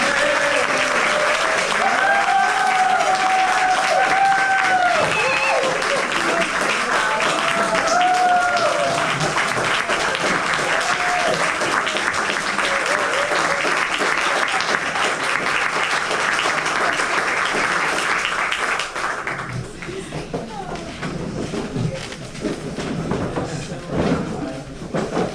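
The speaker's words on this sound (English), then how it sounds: "So I think we owe her a round of applause." A long, loud round of applause from a crowd at an awards ceremony in a hall, dense steady clapping with voices and whoops mixed in, thinning out toward the end.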